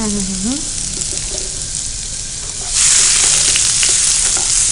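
Cumin, garlic, green chillies and chopped onions frying in a pan for bitter gourd kandari, a loud steady sizzle that jumps even louder partway through, with a brief voice over the start.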